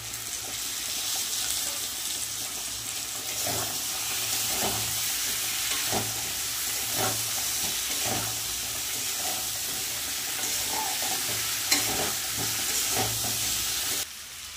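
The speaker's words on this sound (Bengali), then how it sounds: "এবার ছাড়িয়ে রাখা মটরশুঁটিগুলো দিয়ে দেবো" Shelled green peas tossed into spiced masala frying in a pan, a steady sizzle with occasional stirring scrapes and clinks, no talking.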